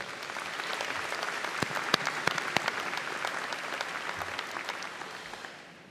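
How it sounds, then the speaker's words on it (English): Sustained applause from the audience at a university commencement ceremony, a broad wash of many hands with a few sharp nearby claps standing out, fading slightly at the end. "How about a round of applause for our faculty?"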